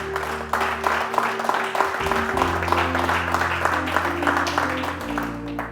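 A church congregation applauds the Lord with steady, dense clapping in a French-language Christian worship service, rhythmic and loud over sustained organ or keyboard chords, with voices mixed in.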